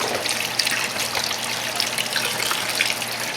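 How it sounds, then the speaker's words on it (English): Cold tap water runs steadily over a whole raw chicken being rinsed, a continuous close trickle and splash with no pauses. "I'm just going to rinse it off with some cold water."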